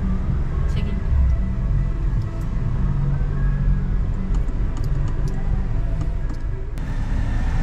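Mitsubishi Xpander GLS 2024 automatic being driven, with steady low rumbling road and engine noise inside the cabin and a voice talking over it throughout.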